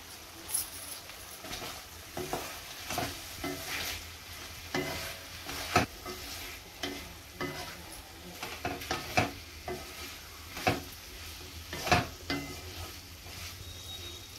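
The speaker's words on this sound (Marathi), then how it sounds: "2 मिनिटं झालेले आहेत, आपण मिक्स करून घेऊया भाजी।" A spoon stirs an eggplant and potato curry in a pan that has been covered, making a series of scraping, clattering strokes over a soft, steady sizzle of frying, close and unaccompanied by voices.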